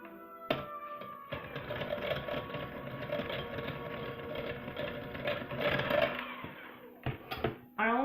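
An electric mixer whirs steadily through buttermilk and dry ingredients for rose velvet cupcake batter, a close, continuous motor hum that starts abruptly, runs for several seconds, then cuts out with a few short bursts.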